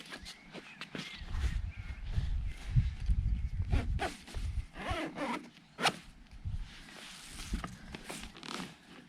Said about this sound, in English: and then just zip up